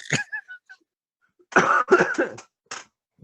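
A couple of short, harsh coughs up close, with a few scattered sounds around them.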